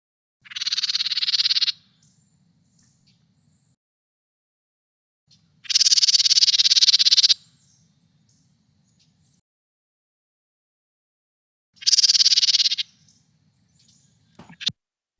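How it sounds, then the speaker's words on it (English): A wren gives three separate bursts of bright, rapid, high-pitched song, each lasting one to two seconds, with quiet gaps between them and a short click at the very end. "This is a wren, and you'll hear that this is much simpler."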